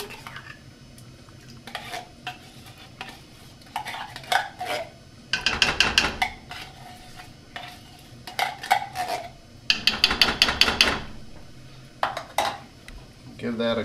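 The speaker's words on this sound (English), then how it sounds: "Give that a good stir." A spoon scrapes and clinks against a pot while soup made with half and half and cream of potato soup is stirred, in several loud bursts of metallic rasping with quieter handling between.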